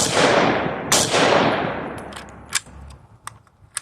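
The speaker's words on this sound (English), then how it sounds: "Double taps, nice and easy. Single shots, nice and slow." A Pioneer Forged 5.56 AK rifle fires loud, sharp outdoor gunshots: a quick opening volley, then a few spaced single shots with ringing echoes trailing off.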